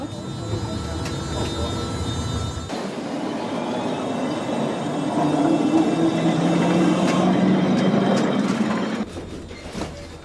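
A Lisbon tram on route 28 rumbles along a steep hilly street with a low mechanical drone and rattling wheels, growing louder midway before easing off, with faint background noise.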